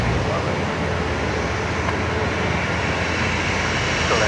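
A Jetstar airliner arriving from Melbourne rolls out on runway 01 right at Brisbane Airport and turns off at the high-speed exit, a steady broad engine roar heard from a distance, unbroken and fairly loud.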